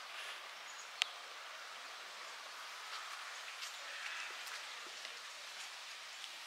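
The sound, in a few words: continuous rain falling outdoors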